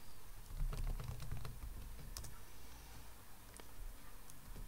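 Close, quiet keystrokes on a computer keyboard as a password is typed in a Linux terminal after installing zsh, irregular clicks spread through a soft background hum.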